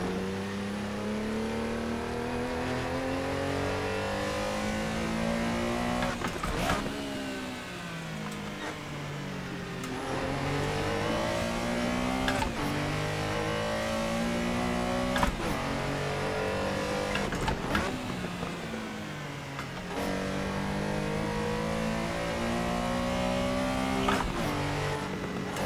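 A Porsche 911 Carrera RSR 3.0 race car in the Assetto Corsa racing game revs hard through repeated upshifts, its engine note climbing in rising sweeps and dropping at each gear change, loud and close throughout with occasional tire noise.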